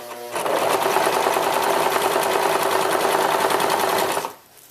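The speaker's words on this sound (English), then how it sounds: "let your machine stitch right along the edge, create a nice finish" A sewing machine stitches along the hem edge of black slacks in one close, loud, steady burst that starts abruptly and stops after about four seconds, with no talk.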